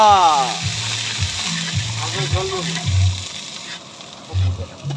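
Chicken and spices fry in hot oil with a steady close sizzle while a spatula scrapes and stirs in a repeating rhythm, the clacks knocking against the pan.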